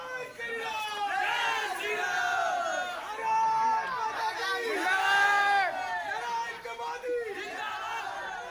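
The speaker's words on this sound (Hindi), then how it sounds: "उनकी जुबान से मोदी मोदी के नारे लगने लगे" Political party workers at a rally in Agra chant Modi's name in loud, rhythmic, repeated crowd slogans, voices rising and falling in unison over background chatter.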